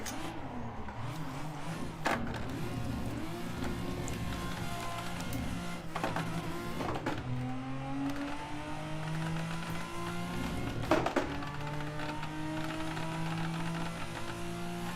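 Car engine in a VR driving game while drifting, a continuous revving drone rising and falling in pitch with gear shifts and sharp tyre-scrub bursts, loud and close, with no talking.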